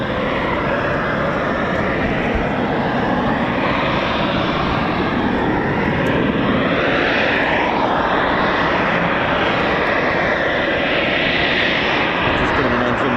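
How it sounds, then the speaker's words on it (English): A military jet running its engine at an RAF airshow, with a steady loud roar and broad rumbling whine that holds throughout and shifts slowly in pitch, nearby and continuous under faint crowd voices. "Just putting an engine run on that one."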